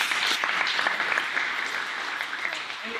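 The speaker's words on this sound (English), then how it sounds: "Give yourselves a round of applause" Brief applause from participants at a grappling camp in Iceland, steady moderate clapping that sustains for a few seconds and tapers slightly, with no talk over it.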